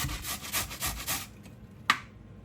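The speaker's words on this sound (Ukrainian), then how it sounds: "натираємо її на дрібній терці" Steady rhythmic rasping of a carrot rubbed against a fine grater, close and continuous, then stopping with a single sharp knock.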